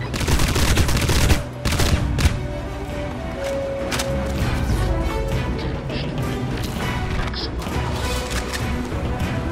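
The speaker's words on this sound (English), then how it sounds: "You're taking fire!" Dense gunfire and crashing impacts fill a Crysis firefight on PC, with sustained bursts and sharp blasts continuing loud throughout, briefly dipping near the start.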